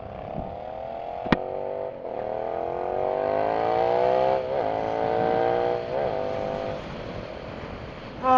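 A Suzuki SV650 motorcycle on the road, its engine droning steadily with rising and falling pitch as the rider shifts and accelerates, with a brief sharp click early on and no speech.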